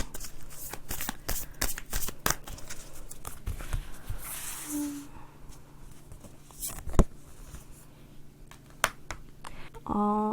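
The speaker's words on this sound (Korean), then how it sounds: "조언 카드 한번 뽑아볼게요." Tarot cards shuffled by hand before an advice card is drawn: rapid riffling flutters and soft papery slaps come in quick bursts, then a quieter pause and a few scattered taps close to the listener.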